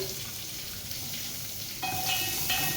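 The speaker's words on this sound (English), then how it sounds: "And then we are going to fry it till it gets golden brown." Spring onion and curry leaves fry in a pan for Indian daal, giving a steady close sizzle that grows slightly louder and brighter partway through, with a faint tonal whine in the background.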